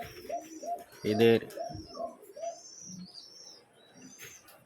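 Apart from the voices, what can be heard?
pigeons cooing in a pigeon loft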